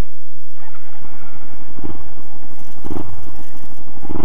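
A 2013 Kawasaki Ninja 300 motorcycle with a Yoshimura exhaust starting up nearby, a brief cranking clatter giving way to a loud, steady idle with rough engine pulses.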